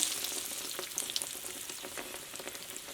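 Bread frying in hot oil, a steady crackling sizzle with small pops, heard up close with no talking.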